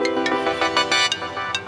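A phone ringtone playing continuously, a bright repeating electronic melody with rhythmic pulses, fairly loud and close with no voices over it.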